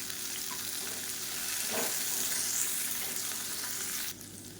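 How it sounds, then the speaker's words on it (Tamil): Onions and dried red chillies sauté in a pan for onion thokku, giving a steady, close frying sizzle that holds evenly, with a soft stirring scrape near the middle, before dropping quieter at the very end. "இதையும் சேர்த்து வதக்கிக்கலாம்"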